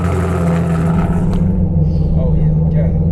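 A 500+ hp turbocharged Camaro engine idles with a deep, steady, loud rumble, up close and unbroken, while people talk over it.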